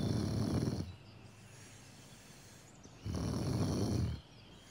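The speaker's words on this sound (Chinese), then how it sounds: "能听到轻轻的鼾声" Light snoring in two slow, soft breaths, each lasting about a second, with a quiet pause between them and no voices present.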